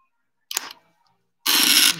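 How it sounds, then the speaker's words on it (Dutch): Camera mechanism noise: a short mechanical click, a pause, then a louder burst of whirring or shutter noise close to the microphone. "Het is mijn camera."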